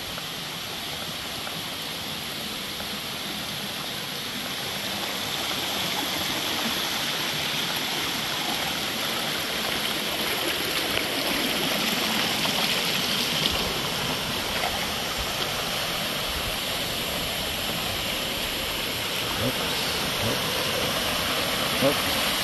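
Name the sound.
waterfall at Baul Falls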